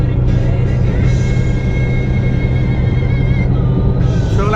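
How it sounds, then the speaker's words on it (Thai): Steady rumble of a 2006 Mazda Tribute 4x4 cruising along a road, heard from inside with constant low engine and tyre noise. "รถวิ่งได้นิ่มได้สมูทดีนะครับ"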